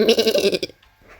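A single drawn-out Minecraft sheep bleat, loud and close, wavering for about half a second before trailing off into quiet.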